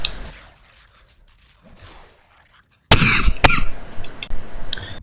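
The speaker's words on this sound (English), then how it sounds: "Sorry for the coughs." Two sharp coughs from a sick player close to the mic, separated by a short gap, over low background sounds of the game Voin.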